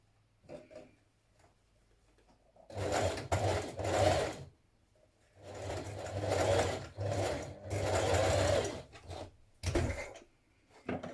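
A sewing machine stitches a dart in dress fabric, running in several close bursts of rapid whirring separated by short pauses.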